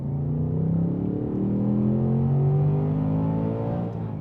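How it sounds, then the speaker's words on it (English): A deep, rumbling V8 engine of a Ford Mustang GT (S650) revs up steadily under acceleration, its pitch climbing smoothly, loud and close throughout. "It just sounds like an American muscle car should."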